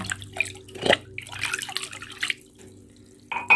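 Shrimp paste being stirred into plain water in a small container, mixed as a fertilizer for caladium plants: close wet swishing with a sharp spoon clink near the start and a brief splash at the end.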